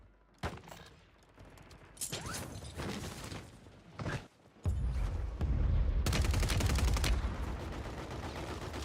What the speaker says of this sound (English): He's getting shot by someone else.